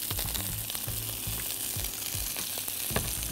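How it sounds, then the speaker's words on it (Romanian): Eggplant frying in oil in a pan, a steady close sizzle and crackle with soft stirring scrapes, no voices. "Îmi place cum sună vinete aici. În tigaie."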